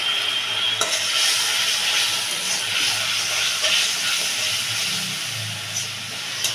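Water boiling in a pot on the stove for egg curry, a steady broadband hiss and bubbling rumble throughout, fairly loud and close, with no talk.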